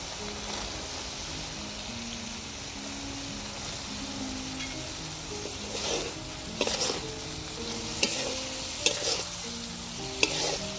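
Chanda fish sizzles steadily in oil spiced with coriander powder, cumin paste and salt, while a spatula stirs it with scraping strokes that grow sharper and more frequent toward the end.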